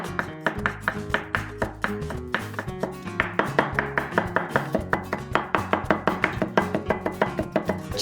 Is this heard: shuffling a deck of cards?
no